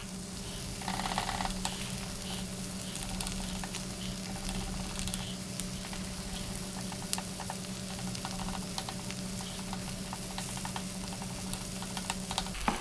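An egg fries in a pan while chickpea chicken rice is being made, giving a soft, steady sizzle and patter with scattered small pops and ticks, fairly quiet and close.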